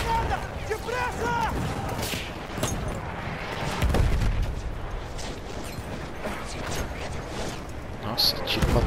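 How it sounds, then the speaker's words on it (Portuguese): Battlefield 1 conquest-mode combat rages with scattered rifle shots and booming explosions in a dense, continuous battlefield din, loud and cluttered, with a voice talking over it. "Nossa, tiro pra todo lado aqui."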